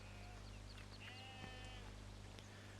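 Sheep on a farm in the Farming Simulator 17 video game bleat several times, with short wavering calls over a steady droning background hum and no talk.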